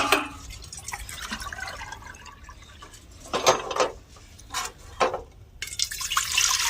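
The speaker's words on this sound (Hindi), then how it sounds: "एक लोटा पानी हमने डाल दिया है" Water poured from a lota into a pressure cooker in a village kitchen while cooking dal, heard as intermittent splashing pours and drips in several short bursts, close and moderately loud, with no talking.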